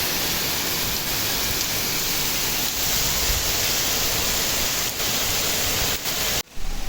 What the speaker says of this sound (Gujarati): કેટલો સરસ વરસાદ આવે છે.